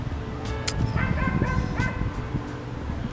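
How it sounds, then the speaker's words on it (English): Several dogs at a dog park bark and yip in short repeated bursts at moderate distance, with a few whimpers mixed in over steady outdoor background noise. "If you hear barking, it's because I'm sitting in front of a dog park."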